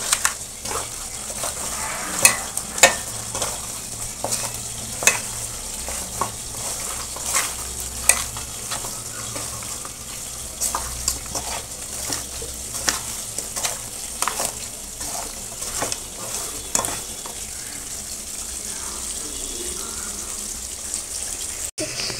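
Eggplant (brinjal) slices fry in a home kitchen pan, giving a steady, moderately loud sizzle with sharp crackles and pops scattered throughout.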